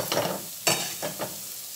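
Ground spices frying in a pressure cooker while a spoon stirs them, soft sizzling with several distinct scraping strokes, the loudest one in the middle, heard up close.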